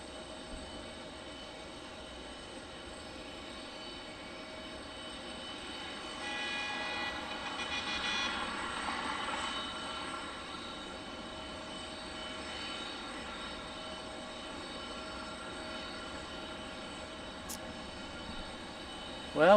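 A Boeing 717 at Detroit Metro Wayne airport produces a distant, steady jet drone that swells gently midway and then fades back, under low background chatter.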